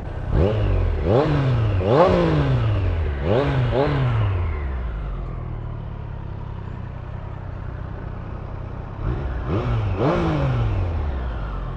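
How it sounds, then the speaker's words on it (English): A 2020 Triumph Street Triple R motorcycle engine revs hard several times in quick succession, drops to a rumbling idle, then revs twice more, its exhaust close and loud. "one thing I would like to show you is the exhaust note of this bike"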